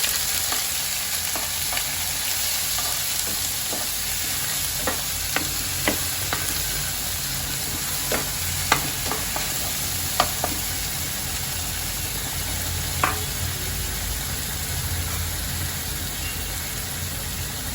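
Ground masala paste fries on medium flame in a pan for a village-style prawn curry, giving a continuous loud sizzle broken by scattered sharp taps and scrapes of a spoon stirring.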